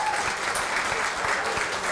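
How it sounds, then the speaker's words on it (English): Students at a Roberto and Vera Clemente commemoration event receive steady audience applause, a dense, even wash of clapping hands with a few individual claps standing out. "Let's give the students a round of applause."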